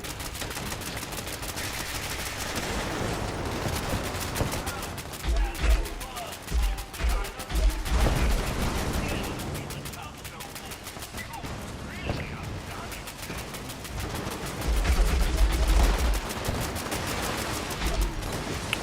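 Repeated gunfire aimed at enemies in the video game Diablo 76, with rapid bursts and clustered shots over a busy game soundscape, while a person talks throughout.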